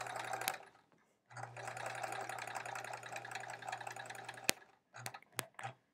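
A sewing machine stitching quilt triangles runs in close, steady bursts, a long continuous run followed by a few short stops and starts, with no talking.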